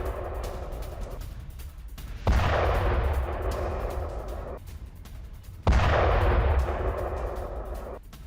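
A strike on a Hezbollah rocket launcher set inside a house in southern Lebanon: two loud, heavy booms with a deep rumble, each decaying slowly over several seconds, with no talk.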